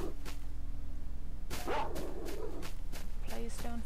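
Dogs in the game Lost Alpha bark at night in the North Hills, a quiet lull followed by a burst of several sharp, rapid barks and yips close by, with a low constant hum underneath.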